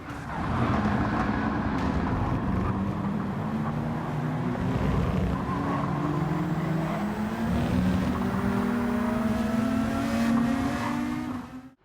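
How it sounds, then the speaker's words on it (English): A GTR race car at full throttle in a racing video game approaching a chicane, its engine a steady loud drone with pitch sweeping up through gear changes, continuous for about twelve seconds before cutting off abruptly. "That same GTR approaches the chicane at full throttle."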